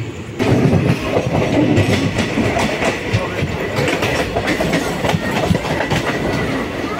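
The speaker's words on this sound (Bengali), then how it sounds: "এই পাশ দিয়ে যাচ্ছে লোকাল ট্রেন" A passenger train on the Howrah to Jasidih line runs through the night with loud, steady wheel clatter and a rhythmic clickety-clack over the rail joints, heard close from inside a coach.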